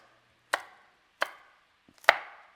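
A knife chops serrano pepper and vegetables on a board for breakfast migas: three crisp, separate chops about half a second apart, close and fairly loud, with a couple of light taps before the last one.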